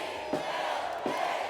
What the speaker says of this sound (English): Signs and chants filled the area.